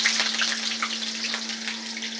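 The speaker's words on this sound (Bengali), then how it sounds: "এই দেখো এখন দিচ্ছি হচ্ছে পেঁয়াজ" Onion hits hot oil and fries with a steady, close crackling sizzle and a faint underlying hum throughout.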